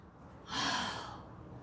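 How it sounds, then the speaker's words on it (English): A single heavy, breathy gasp right after a high-intensity interval workout, rising sharply and then trailing off into lighter panting, close and fairly quiet with no talk over it. "I'm sweating and I'm gasping."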